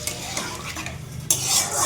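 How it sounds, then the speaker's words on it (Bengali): Water is poured into a pan of fried Bombay duck dried fish with potato and pumpkin, and a sudden bright hiss and sizzle bursts up over a background of stirring and frying. "ভাজা হয়ে গেছে, এবার জল দিয়ে দেবো।"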